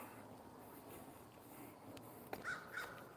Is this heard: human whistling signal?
no